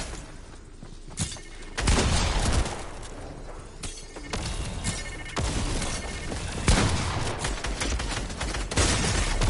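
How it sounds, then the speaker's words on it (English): Explosions and gunfire in the Fortnite video game, a steady barrage of booming bursts and crackling shots from the distance, repeating through the whole stretch with no talking. "we'll look through this while we listen to explosions in the background"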